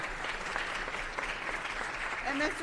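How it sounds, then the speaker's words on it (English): Applause at a city council meeting, a full room clapping steadily and fairly evenly, with a voice briefly rising over the clapping near the end. "Give them one more round of applause,"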